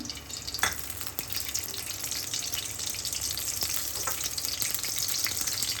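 Bay leaves and cinnamon sticks sizzle in three tablespoons of hot ghee, a steady bright crackle and hiss filling the pan, with a couple of sharper pops near the start.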